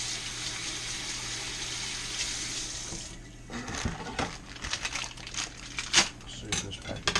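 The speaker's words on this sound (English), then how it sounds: "Wash my hands a little bit." Running tap water pours steadily into a kitchen sink while hands are washed, then the flow breaks into splashes and clinks of dishes and utensils, all close by.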